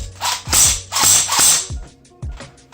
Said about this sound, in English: That blowback is loud.